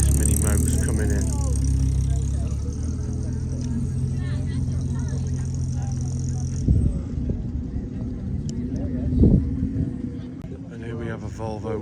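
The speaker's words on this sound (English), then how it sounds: "this mini motor's coming in" A small Mini motor car rolls in at a classic car and steam vehicle show in Norden, England, its low engine rumble steady and close for several seconds before easing off, with people talking nearby.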